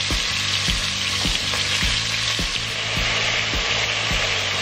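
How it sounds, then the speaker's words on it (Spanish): Peanut sauce poured into pork searing in a pot, giving a steady loud sizzle and frying hiss with regular soft knocks of stirring throughout. "vamos a agregar nuestra salsa de cacahuate que hicimos"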